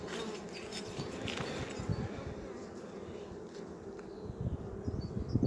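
Honeybees hum in a dense, continuous drone around open beehive colonies during a spring hive inspection, close and steady, with a few light knocks and rustles from handling the hive frames.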